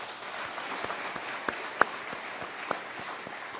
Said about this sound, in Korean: 한번 박수 보내주시기 바랍니다